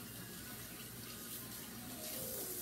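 A kitchen tap runs steadily into a sink for hand washing, giving a constant, fairly faint rush of water with no talk over it.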